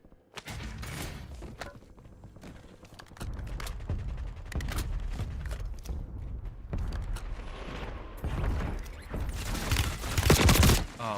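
Rapid gunfire in the video game Warzone, with bursts of automatic fire and single shots, thuds and mechanical clicks, growing denser and louder toward the end, with no talking.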